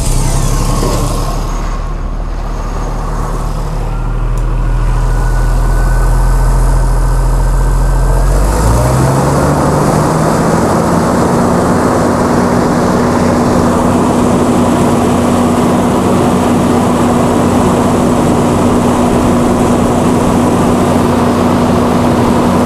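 A Chrysler Slant 6 generator engine fitted with Holley Sniper EFI cranks loudly, fires up after about eight seconds and settles into a steady, droning run at constant speed, close and loud throughout.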